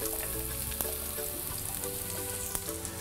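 Thinly sliced onions, about four, fry in a little hot oil in a pan with a dense, continuous sizzle and crackle, a few sharp pops rising over it, no talking.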